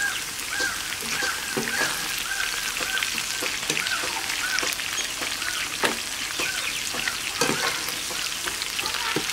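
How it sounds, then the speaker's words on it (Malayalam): Mussels and cauliflower frying in a pan with curry leaves give a constant close sizzle, with occasional scrapes and clinks of stirring and small spitting pops throughout. "അപ്പോൾ നമ്മൾ ഫ്രൈ റെഡി ആയിക്കൊണ്ടിരിക്കുന്നുണ്ട് അപ്പോൾ കുറേശ്ശെ കറിവേപ്പില ഇട്ട് കൊടുക്കണം"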